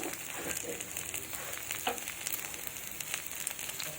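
Oil poured into a hot pan holding frying fish, making a soft, continuous crackling sizzle with faint scattered pops, close but quiet.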